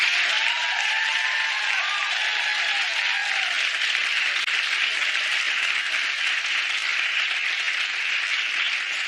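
Studio audience at a daytime talk show breaks into dense, sustained applause that fills the room evenly, with faint voices briefly audible beneath the clapping early on.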